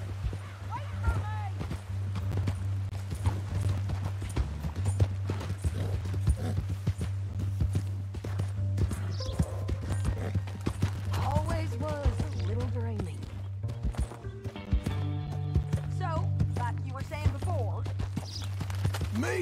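A horse walks with even clip-clopping hooves in Red Dead Redemption 2, moderately close and steady throughout, mixed with character voices and a low constant hum.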